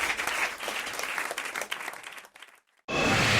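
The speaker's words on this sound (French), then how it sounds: "Sous vos applaudissements, comme aurait dit Jacques Martin." A studio audience applauds loudly on a French radio show, the clapping dipping briefly into near silence before a fresh burst of applause returns at the end.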